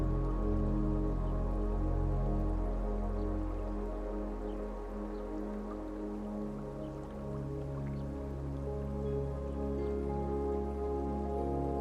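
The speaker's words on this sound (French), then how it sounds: "la douce rigolade d'un petit ruisseau" A small stream trickles and babbles softly in a peaceful outdoor spot, giving a steady, gentle, continuous wash of water that stays low and even throughout.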